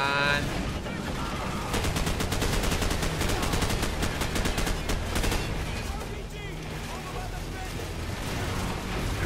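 Sustained machine gun fire from a tank in Call of Duty 4: Modern Warfare, a rapid rattling stream of shots with explosive rumble underneath that runs loud and close for most of the span, easing off near the end.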